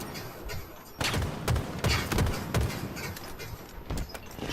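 Gunfire in a first-person shooter video game: scattered sharp shots crack in several quick bursts over a background din, fairly loud and close, with no one talking.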